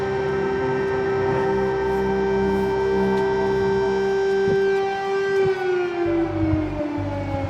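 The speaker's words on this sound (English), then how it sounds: "there are air raid sirens going off right now here in the heart of Kyiv." Air raid sirens wail across the heart of Kyiv during Russian airstrikes: a loud, sustained, wavering tone that holds steady and then slides downward near the end, with faint city noise beneath.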